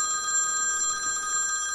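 A telephone rings with a steady, continuous electronic trill that is close and moderately loud and lasts the whole short moment.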